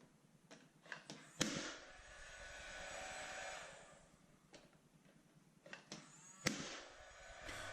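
A pneumatic nail gun drives fasteners through trim onto a bifold door, giving a few sharp, loud isolated shots with a hissing air blast, alone with no talk.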